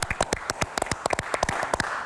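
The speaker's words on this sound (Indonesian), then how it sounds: "tepuk tangan untuk Ibu Rinta" A studio audience claps for Ibu Rinta on a health talk show, a few loud individual claps standing out in an irregular, fairly close burst with no talking.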